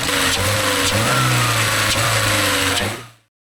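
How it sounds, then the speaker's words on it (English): A Mercedes engine runs steadily up close, with the low drone of the motor, a whirring belt and a busy metallic rattle from a worn timing chain, before it cuts off abruptly at the end. "The belt noise is okay, but I think we're gonna have to replace the timing chain at one point."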